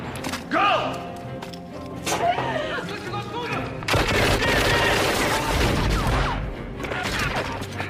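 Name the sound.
gunfire in Rambo III film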